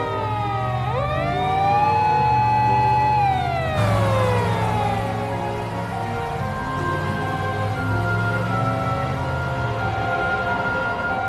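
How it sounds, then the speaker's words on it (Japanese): Japanese ambulance siren from a vehicle turning left on a city street, loud and close: sustained wailing tones glide and sweep throughout, over low engine rumble, with no talk. "救急車が左に曲がります。"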